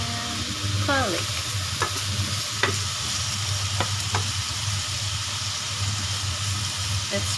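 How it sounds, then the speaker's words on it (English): Ginger and garlic fry in a small amount of oil with a continuous steady sizzle, broken by a few scraping stirs of a utensil in the pan. "let's fry our ginger and garlic."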